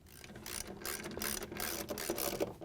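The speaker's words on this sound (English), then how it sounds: "we grab our 3/8" socket with the ratchet and put one of the bolts in" A 3/8-inch socket ratchet clicks rapidly while tightening a bolt on a washing machine outer tub assembly, a quiet, close, steady series of ticks.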